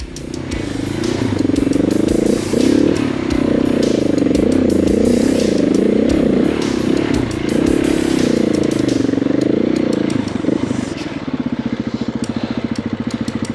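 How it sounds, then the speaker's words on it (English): Heavily loaded adventure motorcycles labor through a difficult off-road section, their loud engines roaring and revving continuously up close before settling into a rougher, pulsing throttle. "on these bigger bikes, weighted down with all our gear, this was quite a challenge"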